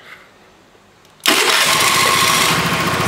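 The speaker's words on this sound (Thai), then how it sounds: "สตาร์ทง่ายเลยเดี๋ยวผมสาธิตให้ดู" Car engine cranking and catching at once after a quiet moment, then running at a loud, steady idle close by.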